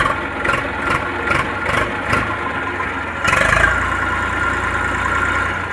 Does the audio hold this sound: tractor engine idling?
yes